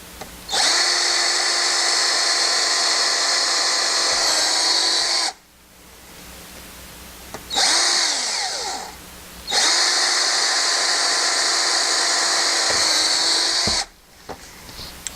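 A power drill whines at high speed in two long bursts separated by a short pause, with a brief spin-up in between, drilling stud holes in a Honda Accord race car; close and loud.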